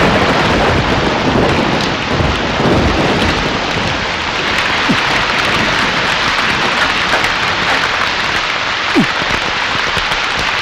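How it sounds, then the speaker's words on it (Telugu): Heavy rain pours steadily and loudly, with low rolling thunder rumbling beneath it for the whole stretch and no talking. "వర్షం వచ్చేటట్టుంది, సోదాపు ఇంటికి వెళ్ళండి."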